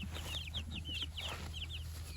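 Young chicks in a coop peep and cluck in quick, high bursts, several calls close together over a steady low hum.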